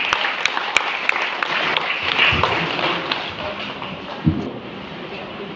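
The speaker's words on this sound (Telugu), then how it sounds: "చప్పట్లు చప్పట్లు" An audience at a stage felicitation event in Malyala applauds with a dense, steady patter of clapping that swells briefly and then settles, with voices faintly underneath.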